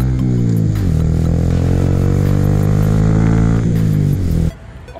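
A Honda Grom motorcycle engine hums steadily while riding, loud and close, with the pitch dipping and climbing as the throttle shifts before cutting off sharply near the end.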